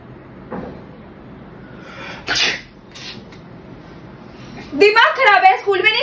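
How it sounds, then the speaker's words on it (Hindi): A single loud sneeze bursts out during a comedy prank skit, sharp and close. Moments later several people start talking over one another in an agitated way. "स्कूल में नहीं सिखा कैसे छींकता है?"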